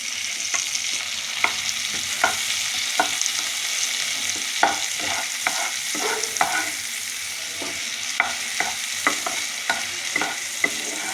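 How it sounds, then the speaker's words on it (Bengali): Tomato fries with onion and garlic in a pan, a constant hissing sizzle under repeated spatula taps and scrapes as the mixture is stirred. "পেঁয়াজ রসুনটা ভাজা ভাজা হয়ে গেছে"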